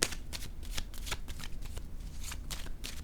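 Tarot cards are shuffled and laid down at close range, heard as a quick run of dry riffling bursts and soft slaps in an uneven rhythm, with no one talking.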